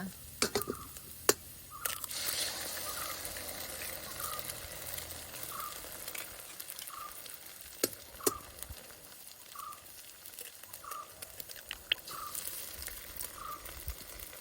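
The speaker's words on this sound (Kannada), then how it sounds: "ಈರುಳ್ಳಿಗ ಫ್ರೈ ಆಯಿತು ಈಗ ಇದಕ್ಕೆ ಎರಡು ಮೊಟ್ಟೆ ಹಾಕುವ" Two eggs frying in a pan with fried onions and curry leaves give a soft, steady sizzle and crackle, with faint ticking and light stirring sounds underneath, heard quietly and close up.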